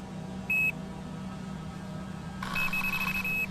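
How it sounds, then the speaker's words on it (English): Electronic bite alarms on fishing rods beep: one short high tone, a pause, then a sustained stuttering run of beeps over low background hum. "My two rods are each equipped with an electronic alarm, primed to go off if something makes a grab for the bait."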